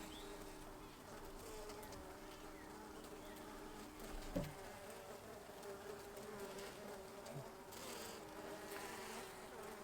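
Honey bees hum around the queen at an open hive, a continuous close buzz with faint bird calls in the distance.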